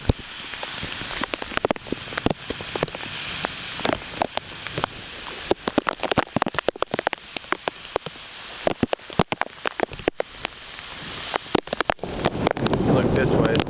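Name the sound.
hurricane rain and wind outdoors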